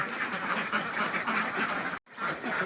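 A dense chorus of many laying ducks quacking constantly and loudly at morning feeding time, broken by a momentary gap before the noisy flock resumes.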